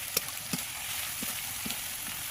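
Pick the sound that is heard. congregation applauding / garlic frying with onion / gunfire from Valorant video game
garlic frying with onion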